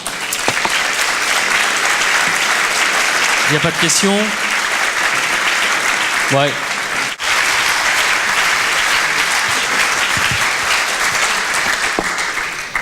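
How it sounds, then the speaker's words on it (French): Sustained audience applause fills a round-table event hall in 2013, dense and steady for the whole stretch, with brief spoken words in French heard over it. "on peut vous applaudir."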